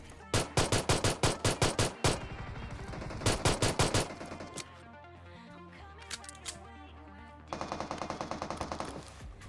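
Gunfire in the mobile battle-royale game PUBG Mobile: rapid automatic bursts, then a second volley, scattered single shots and another burst near the end, loud and up close with no speech.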